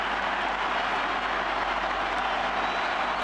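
A pro-Colombian football crowd cheers and applauds after a Colombia goal against Brazil, a dense, steady roar of noise that holds loud throughout.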